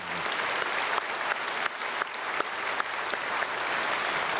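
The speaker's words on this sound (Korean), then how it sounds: "박수하겠습니다." A church congregation applauds during a Sunday worship service after a choir's hymn, steady full clapping sustained evenly throughout with no speech over it.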